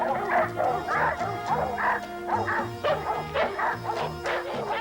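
Several dogs bark and yip in rapid, overlapping bursts at moderate distance, with a steady drone running beneath the excited chorus.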